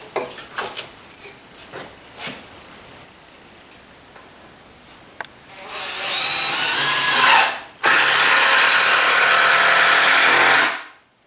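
Power drill driving screws into wood, heard as two sustained whirring runs near the end, loud and close, with one short pause between them, after a stretch of faint scattered knocks and room noise.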